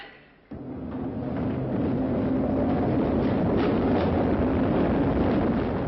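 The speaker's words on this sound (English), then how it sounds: "Ballast train going back." A ballast train on the London Underground passes by, its deep continuous rumble and rushing noise swelling after a short quieter start and holding steady and loud to the end.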